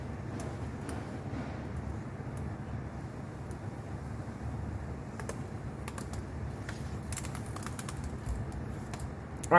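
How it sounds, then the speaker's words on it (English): Cotton swab rubbing and tapping across a laptop keyboard, a soft, continuous, close scratchy patter with a few sharper clicks toward the end. "cotton swabbing the keyboard of this laptop, which is not mine, by the way"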